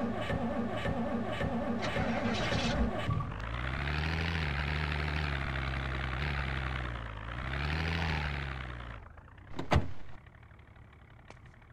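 A car engine idles with a steady low hum in Project Zomboid, holding for several seconds and swelling slightly before it cuts out, followed by a brief click and knock.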